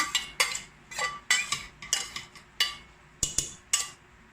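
Shredded chicken and fish being stirred together in a bowl, a spoon clinking repeatedly against the dish in an irregular rhythm of crisp, close taps with quiet gaps between.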